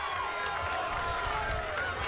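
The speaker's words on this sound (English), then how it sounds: "That got a little bit of murmur out of the crowd here. Got a little bit of clapping from ES Elite." A basketball crowd at a Hoopfest championship game murmurs steadily after a free throw, with scattered clapping mixed into a dense, continuous wash of arena noise.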